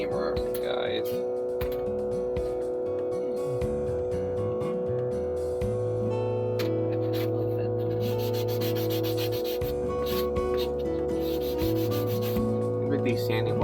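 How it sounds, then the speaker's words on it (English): Repeated rubbing strokes of a sanding block scraping against a surface, continuing steadily alongside a low mechanical hum. "With these sanding blocks up at Menards, guys, some different grits."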